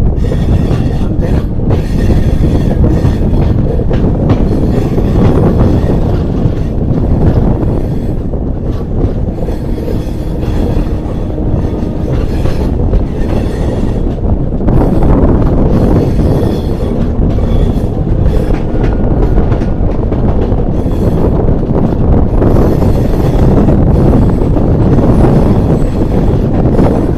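A train running along the tracks near Guntur, a loud continuous roar of wheels and rattling cars heard close by with wind buffeting, steady for the whole stretch.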